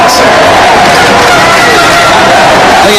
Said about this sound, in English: The crowd trying to get a little bit more involved.